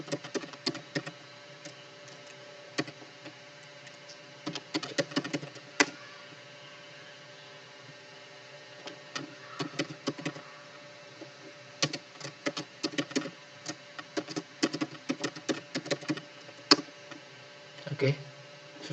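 A computer keyboard is typed on in a terminal, with quiet clustered clicks and taps close by, coming in irregular bursts over a faint steady hum.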